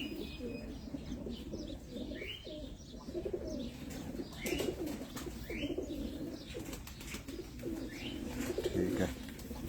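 Pigeons on a rooftop in Abu Dhabi coo in a steady low murmur, with chirps and brief wing flaps mixed in, close by and continuous under ambient noise.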